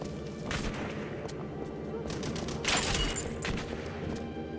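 Sniper and other gunfire in the video game Turning Point: Fall of Liberty on Xbox 360, scattered sharp shots with one louder blast near the middle over a dense game background.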